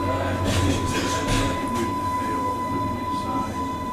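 A battery-powered traction locomotive runs steadily with a continuous low rumble and a sustained electric tone, heard close and alone without talk.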